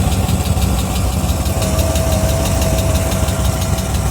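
A 2026 GM 6.2L V8 truck engine with only 2,500 miles idles steadily up close, its continuous low rumble carrying a fine, evenly repeating metallic ticking throughout.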